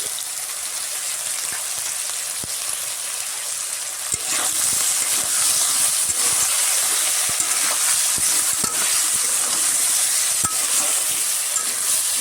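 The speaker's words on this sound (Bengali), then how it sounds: "এই যে কেটে রাখা বেগুন আর আলুগুলো একটু ভেজে নেব লবণ হলুদ দিয়ে" Eggplant and potato pieces fry with salt and turmeric in a pan, giving a loud, dense, continuous sizzle that jumps up about a third of the way in, with occasional stirring knocks.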